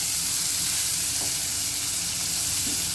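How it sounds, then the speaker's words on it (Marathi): Chopped onion sizzles steadily in hot oil with roasted garlic in a pan for a cabbage and chana dal dish, a constant close frying hiss with no talking. "आपण त्याच्यामध्ये कांदा टाकून घेऊया छान गुलाबी चांगला येईपर्यंत भाजून घेऊया"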